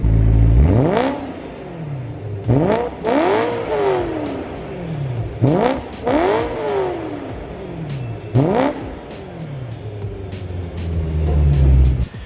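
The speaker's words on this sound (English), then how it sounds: "the exhaust note is really pretty nice, honestly stock" A BMW M3 with stock exhaust revs repeatedly, four or five sharp rises in pitch that fall away, loud and close, with a burbling idle between.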